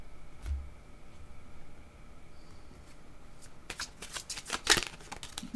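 Oracle cards being shuffled and drawn by hand, with soft rustling at first, then a quick run of crisp riffling snaps growing louder toward the end, close by with no talking.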